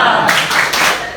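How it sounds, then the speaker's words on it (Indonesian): A classroom group claps a rhythmic cheer together, a loud, close burst of hand claps in quick patterned beats filling about a second. "Tepuk semangat."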